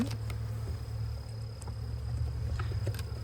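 Honeybees buzzing around a backyard hive during feeding with a pollen patty, a steady low droning hum that holds throughout, with faint scattered ticks and rustles from nearby work.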